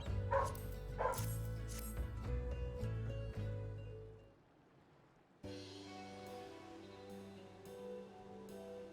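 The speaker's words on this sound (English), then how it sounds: "Hey, you stop barking." A dog yips and barks close by in a quick run of sharp calls, then falls silent briefly before a softer, drawn-out whimpering resumes.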